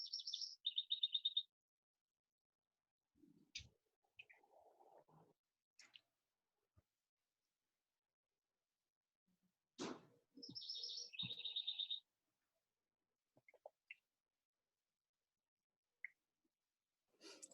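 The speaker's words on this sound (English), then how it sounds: "What wonderful birds you have." Small birds chirp at a backyard feeder in short, bright bursts separated by quiet gaps, with faint rustles and clicks between calls, close and clear with no talk.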